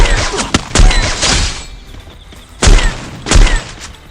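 Heavy sniper rifle shots in a video game, an AWM, several loud booming cracks in separate bursts with short echoing tails between quieter gaps.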